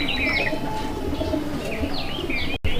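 Pigeons coo nearby in soft, repeated calls, with a few brief chirps and a flutter of wings mixed in.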